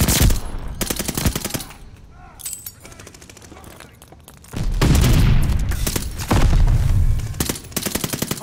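Rapid automatic gunfire in Call of Duty: Vanguard during a Hardpoint match, with loud, close sustained bursts that stop and start, mixed with game voice callouts.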